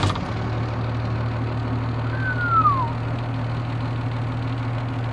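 A 1991 Dodge Ram 250 4x4 with a Cummins turbo diesel cranks and settles into a steady idle, with a low, even rumble throughout and a brief whine part way through.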